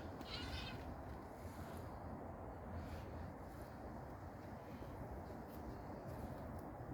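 A cat lets out a brief meow at the start, faint against a steady backdrop of outdoor wind and rustling in a home garden.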